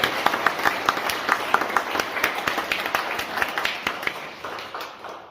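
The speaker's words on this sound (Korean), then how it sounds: "우리 모두를 향해서 뜨거운 박수와 함께 나누겠습니다." An audience applauds at a memorial mass in an indoor hall, a burst of scattered individual claps that is fairly quiet overall and tapers off toward the end.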